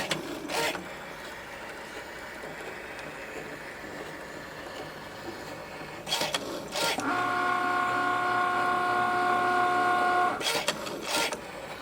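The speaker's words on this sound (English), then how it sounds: "So now we're going to run this through our Cricut machine" Cricut cutting machine slicing fabric pieces for storage bins, a steady mechanical whir with carriage clunks and a sustained motor whine in the middle stretch.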